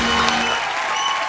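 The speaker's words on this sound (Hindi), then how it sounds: "जोरदार तालियां एक बार हो जाए" Loud applause from a studio audience on a Hindi comedy show, a dense burst of clapping heard alone for a brief moment.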